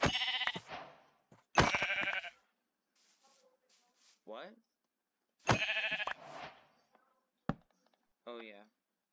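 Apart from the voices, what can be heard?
sheep bleating in video game Minecraft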